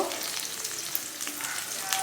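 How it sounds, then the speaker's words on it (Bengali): Onions and green chillies frying in hot oil, a dense, continuous sizzle close up with a few light spatters and no voices. "এখানে আমার পেঁয়াজ মরিচ লাল লাল ভাজা হচ্ছে"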